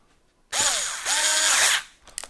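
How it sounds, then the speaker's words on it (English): Power driver running scale bolts into a Meus Racing 1.9-inch RC truck wheel: two close, loud whirring bursts with rising and falling motor pitch, then a brief clicky tail. "easily done with a power driver"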